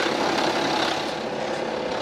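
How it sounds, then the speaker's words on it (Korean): BMW F25 X3 30d with the 3.0-litre N57 diesel engine and a stretched timing chain, idling close up with a steady, even engine noise and a continuous mechanical hum. "현재 이 차량의 경우에는 제가 생각하기에는 소음이 타이밍 체인이 늘어진 걸로 판단이 들어요"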